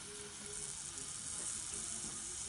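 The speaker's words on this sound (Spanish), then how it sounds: "Y ahí ponemos la cebolla a freír." Onion fries in hot oil in a pan for a Chilean charquicán, making a steady, faint sizzle and hiss with no break.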